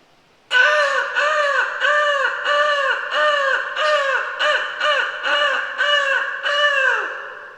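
A voice imitating a crow, giving a rapid series of about a dozen harsh caws in a steady rhythm, loud and close.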